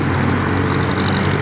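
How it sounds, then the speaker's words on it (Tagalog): A continuous, loud, broadband rumble and roar comes from an LRT elevated train passing overhead on Taft Avenue in Manila. The noise is steady and close, with no speech. "naririnig niyo po kasi yung tunog ng tren dito sa taas"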